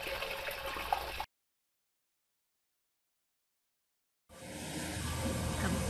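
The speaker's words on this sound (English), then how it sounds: "Comes the water after the sponge has been pulled through." Water gushes through a hydroponic greenhouse pipe once a cleaning sponge has been pulled through it. A steady rushing flow cuts off into total silence, then resumes with the same noisy pour.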